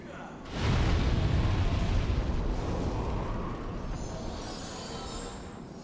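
A gunpowder barrel explosion in the video game Demon's Souls, a sudden loud blast that settles into a long, dense rumbling roar fading slowly over several seconds.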